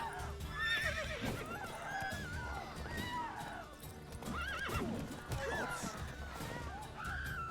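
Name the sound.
horse neighing in video game The Witcher 3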